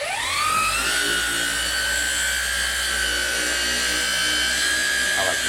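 A Flex PXE 80 10.8 cordless polisher runs steadily, its motor whine rising as it spins up and then holding a loud, constant high-pitched drone at close range.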